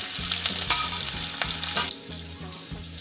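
Green chillies crackle in hot oil with cumin seeds and garlic, a close, busy sizzle with spoon-stirring scrapes throughout, easing slightly near the end.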